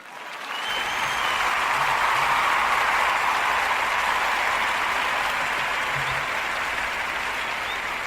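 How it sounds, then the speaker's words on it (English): Applause from a crowd at a gaming morning show, a dense sustained clapping that swells in within the first second and continues steadily at full level to the end. "Everybody give Chris a round of applause."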